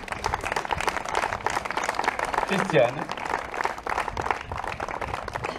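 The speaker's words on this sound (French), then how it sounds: "Je voudrais qu'on l'applaudisse et je voudrais qu'elle vienne ici." Crowd applause rings out at an outdoor inauguration of an esplanade, a steady clapping wash with a voice briefly calling out over it midway.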